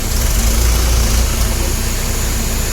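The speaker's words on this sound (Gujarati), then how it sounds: "ટ્રેક્ટરે આવી ગયું" A tractor engine runs steadily close by at a farm, a continuous low rumbling drone with a deep throb that holds level throughout without pause.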